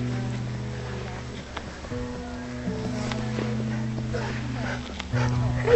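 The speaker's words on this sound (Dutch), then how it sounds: "Dag hondje." A small dog barks and whimpers during an outdoor walk, with short yips and whines mixed with a steady background rumble and some voices nearby, growing louder toward the end.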